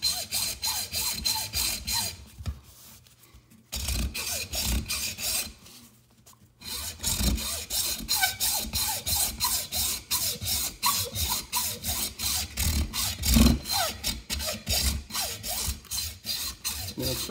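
A blade rasps steadily into a coconut shell in quick, regular scraping strokes, close and dry, with two short pauses before the rhythmic sawing resumes.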